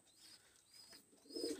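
Pigeons kept at home for sale, a pair being shown, give soft, low cooing that swells toward the end of the short stretch, with a few faint higher chirps above. No one speaks.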